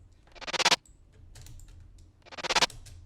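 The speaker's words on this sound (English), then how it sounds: "that's a sick reverse sound." Two swelling whooshes rise rapidly in a stuttering rhythm and cut off abruptly, a reversed-sounding slap house effect made in FL Studio, repeated twice with a quieter gap between.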